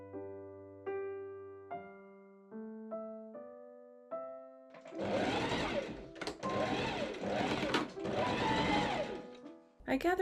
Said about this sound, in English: I machine sew a ribbon along the top edge of the lower sleeve.